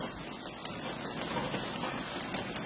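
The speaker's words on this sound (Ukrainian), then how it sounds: "І дощ не перестає." Heavy rain pours steadily during spring flooding in the Kovel area of Volyn, Ukraine, a dense continuous hiss of drops drumming on surfaces, fairly close and even throughout with no voices.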